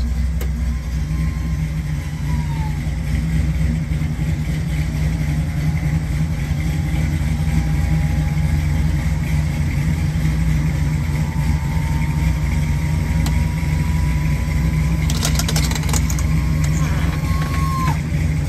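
A 1970 Oldsmobile Cutlass convertible engine idles steadily for the whole stretch, a constant low rumble with a faint whine running over it.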